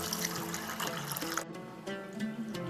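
Basmati rice being washed in water, wet sloshing and trickling with a brief splash partway through, quiet and close.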